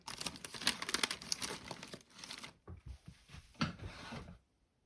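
Double-sided craft tape is handled to stick on a small ribbon, giving close, busy crinkling and tearing rustles in quick bursts that thin into a few separate crackles before stopping.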